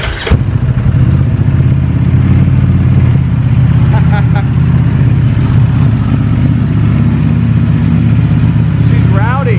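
A V4 engine on a custom Ducati XDiavel motorcycle fires up and settles into a loud, lumpy idle with throaty rumble close by, blipped revs rising at the end, and people talking faintly beneath it.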